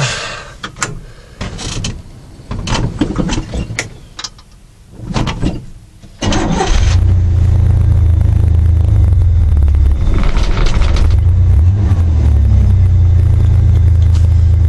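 A 1982 GMC S15 truck engine cranks a few times, catches on a cold start and settles into a loud, steady low idle that carries on to the end, with some rattling and mechanical clunks before it fires.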